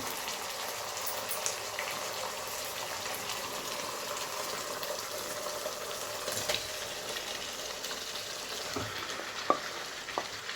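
Masala chicken frying with tomatoes in a pan gives a steady bubbling sizzle, fairly quiet, with occasional spoon taps and clinks as it is stirred.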